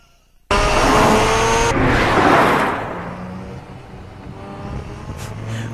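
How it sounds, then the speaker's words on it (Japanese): Cars from Initial D roar past one after another at full throttle, a loud engine howl that cuts in suddenly, then fades into quieter engine drone and tire noise with a faint rise near the end. "次から次へと全開でかっ飛んでいくあの音聞いてて"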